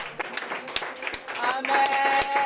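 A church congregation applauds, with scattered claps that build into steadier clapping, mixed with voices and shouts of praise.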